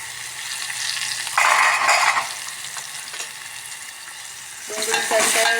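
Dried whole red chillies, a green chilli and onion hit hot oil for tempering, sending up a loud, close burst of sizzling and crackling that settles into a steady fry, with stirring clinks and a second flare of sizzle near the end.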